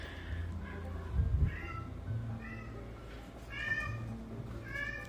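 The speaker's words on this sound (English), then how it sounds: "Sorry if you hear my cats in the background" Pet cats meowing in a home, several separate meows spread across a few seconds at moderate distance, with a soft thump near the start and no talking.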